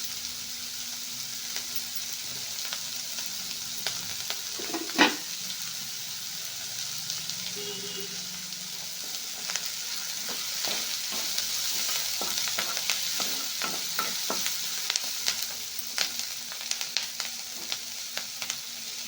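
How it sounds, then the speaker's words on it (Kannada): Udara byali legumes frying and being stirred in a pan, with a steady sizzle under scattered scraping stirs and a sharper clink near the middle, no talk. "ಇವಾಗ ಇದು ಫ್ರೈ ಮಾಡ್ಕೋಬೇಕು"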